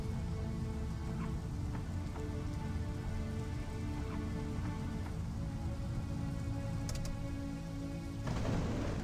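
Steady rain pours down in a video game, a constant dense hiss with low rumbling underneath, continuous throughout and swelling slightly louder at the end.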